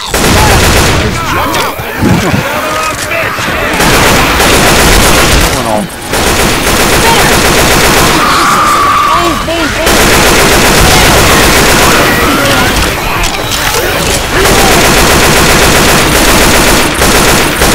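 Dense, loud video game gunfire, rapid machine-gun bursts in a co-op zombie shooter, nearly continuous with brief pauses, while players shout callouts over it.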